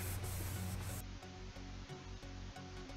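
Rubbing alcohol being wiped across a bike frame to lift sticker residue, giving a steady rubbing and scrubbing noise with a short rhythmic pattern of strokes after a denser opening, close and fairly quiet, with no talk.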